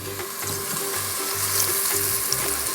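Flour being stirred into mac and cheese sauce in a pan, a steady sizzling bubble with soft rhythmic scraping strokes throughout, fairly close and alone.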